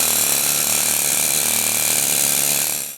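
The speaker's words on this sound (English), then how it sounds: "I've got this pneumatic fan tool. Never tried a pneumatic one." A pneumatic air tool hammers rapidly and loudly at a seized Land Rover part, a continuous dense buzzing chatter that holds steady for about three seconds before cutting off, with no voices.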